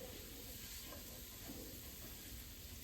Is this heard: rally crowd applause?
no